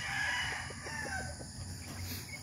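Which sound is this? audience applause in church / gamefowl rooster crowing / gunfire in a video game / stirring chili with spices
gamefowl rooster crowing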